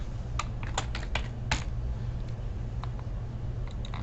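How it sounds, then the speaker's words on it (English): Close, crisp keystrokes on a computer keyboard as text is entered into FastCAM software, a quick burst of clicks early on followed by sparser taps over a steady low hum. "Type in the text that I want."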